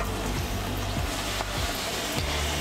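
Puri dough puffing in hot grapeseed oil over medium heat, a steady dense sizzle and crackle of deep frying with soft periodic stirring or pressing knocks, close and continuous.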